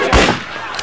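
A single sharp gunshot in PUBG Mobile bursts out, followed by a brief echoing tail that fades quickly.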